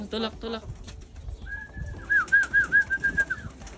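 A racing pigeon arrives home at its loft during a 180 km race. A short voice comes first, then a series of soft, rhythmic coos close by.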